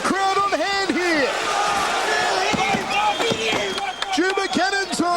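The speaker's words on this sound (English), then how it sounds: "A massive crowd on hand here." A large crowd roars steadily at a fight between Mohammad Eddine and Dragomir Dubocanin, the loud sustained cheering running under an excited commentator's voice throughout.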